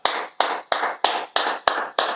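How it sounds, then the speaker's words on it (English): One person claps their hands seven times at an even pace, each sharp close clap dying away quickly before the next. "I had to pause and applaud for this brother"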